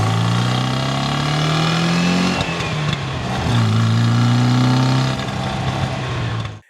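An air-cooled 1,582cc flat-four engine with twin Zenith carburetors in a 1958 Porsche 356 A 1600 Super Speedster revs up, dips briefly, then climbs again in a throaty, buzzing rise before cutting off; loud and close, no talk.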